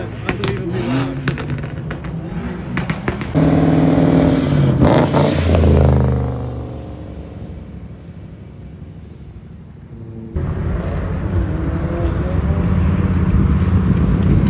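A car engine revs hard and loud nearby, rising to a roaring peak, dropping to a low idle rumble, then surging again, with talk partly underneath.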